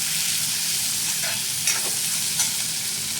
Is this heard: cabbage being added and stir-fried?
yes